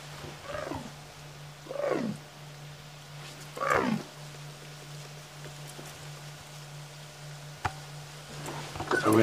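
A wild leopard on safari calling for her cub: three rasping, sawing calls spaced about two seconds apart over a low steady engine hum, with fainter stirrings toward the end.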